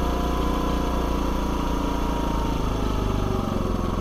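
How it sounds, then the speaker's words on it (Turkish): A Daelim Beagle 50cc scooter engine settles from its automatic cold-start fast idle into a steady idle, a close, constant, fairly quiet mechanical hum and putter with no talking. "Gördüğünüz gibi kendisi otomatik gazı azalttı ve rölantiye aldı. Motoru gayet sessiz aslında."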